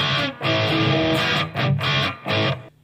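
An electric guitar played through a REVV G3 distortion pedal with the gain turned down, giving loud, close, heavily distorted strummed chords in a few sustained bursts separated by short cuts, with no talk.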